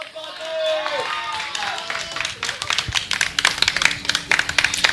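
Scattered claps and taps from an audience in support of a woman who has just spoken forcefully about defending gods and goddesses, rising from sparse to denser clapping over a few seconds, with a voice and tonal sounds early on.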